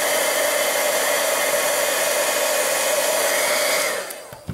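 A heat gun blows a steady, loud whooshing roar for about four seconds while drying distress oxide ink on a craft card, then quickly switches off.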